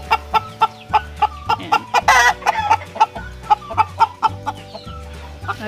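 A silkie hen clucks after laying an egg in a backyard flock, loud and close, with repeated rhythmic clucks and a brief louder squawk in the middle.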